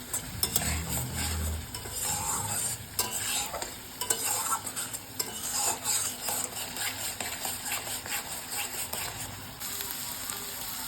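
Spice mix with salt and turmeric frying and being stirred in a pan for egg curry, a steady close sizzle broken by frequent scraping stir strokes, alone without talk.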